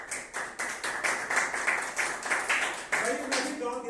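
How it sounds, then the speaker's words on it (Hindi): A crowd claps in a steady rhythmic beat, strong and even, with a voice rising over the end. "एक बार अपने समर्थ ताली बजा लीजिए।"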